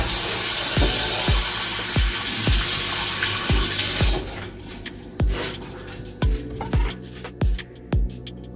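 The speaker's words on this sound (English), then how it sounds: "Pull these off. Rinse it out." A kitchen tap pours a steady stream of water for about four seconds while vegetables are rinsed, then shuts off, with regular knocking thuds repeating throughout.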